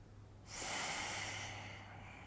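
A single long, deep breath drawn in during a yoga flow in downward dog, rising sharply, sustained and airy for about a second before slowly fading, close and alone over a low hum.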